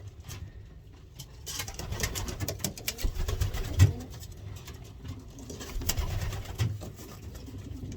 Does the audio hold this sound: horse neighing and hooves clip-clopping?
no